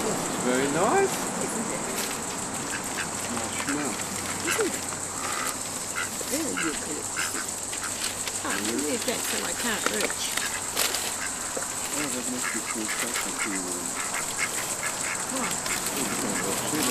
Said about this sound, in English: Trying to film the ducks.